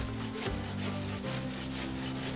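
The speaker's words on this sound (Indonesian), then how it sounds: "Tangan tuanya dengan gesit segera memotong beberapa batang dan ranting kayu dengan menggunakan sebuah gergaji manual" A manual hand saw cuts branches and wood up in a mango tree, giving a close, rhythmic rasp of about three strokes per second over a low background hum.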